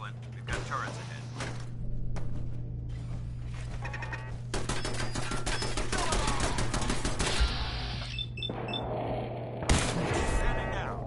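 Automated turrets fire in Fallout 4, bursts of rapid shots amid dense game noise and music, with a low steady hum beneath, fairly close and loud.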